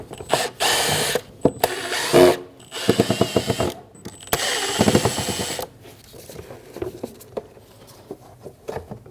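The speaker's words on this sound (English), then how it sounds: "Using a Phillips bit, we're going to remove the 5 screws on the back of our intake." A power driver with a Phillips bit backs screws out of a 2012-2022 Volkswagen Passat 2.5L intake cover, giving several short loud whirring bursts separated by pauses, close up with no talk.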